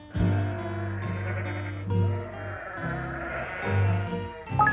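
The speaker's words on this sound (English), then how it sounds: "3 of Alf's sheep climbing over the wall." Several sheep bleat in overlapping, wavering calls, loud and close, with short pauses between cries and no voices.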